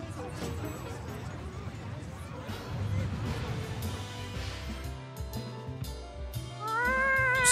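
A cat in the Tales of Xillia 2 video game meows near the end, a rising, wavering call that follows several seconds of crowd babble and other game sounds, with speech mixed in.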